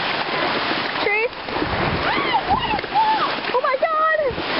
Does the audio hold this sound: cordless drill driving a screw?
no